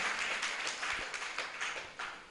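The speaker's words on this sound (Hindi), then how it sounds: "तालियां बजा के इनका स्वागत करें।" An audience at a Jain religious discourse claps in welcome. Dense, fairly faint applause holds steady for a couple of seconds with no speech over it.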